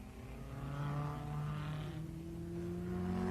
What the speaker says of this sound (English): Hawthorn and Collins flat out in their powerful Lancia Ferrari V8s.